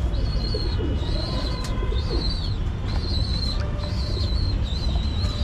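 Pigeons coo in low bursts against a loud, constant background rumble, while a high repeating whistle-like tone pulses steadily throughout.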